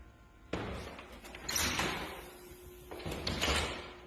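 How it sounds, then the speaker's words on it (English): A door shuts by itself with a sudden sharp thud, followed by rattling bumps and a second knock a few seconds later, close and fairly loud in a quiet room. "I heard a noise, and I came out here and this fucking door was open, and now it just shut by itself."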